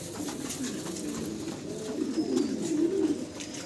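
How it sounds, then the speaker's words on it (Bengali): Exhibition pigeons at a fancy pigeon farm coo in low, continuous murmuring rolls, fairly close and steady, swelling slightly toward the end, with no talk. "এক্সিবিশন কবুতর আপনাদেরকে দেখাচ্ছি"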